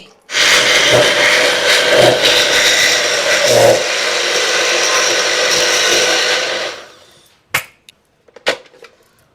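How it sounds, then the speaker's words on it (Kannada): A kitchen mixer grinder runs in one steady, loud, whirring burst of about six seconds while grinding beetroot chutney, then stops. A few sharp knocks and clatters of the jar follow. "ಈ ಥರ ಮಿಕ್ಸ್ ಮಾಡಿ 1-2-3 ಸತಿ ಗ್ರೈಂಡ್ ಮಾಡಿಬಿಟ್ಟು ನಿಮಗೆ ತೋರಿಸ್ತೀನಿ"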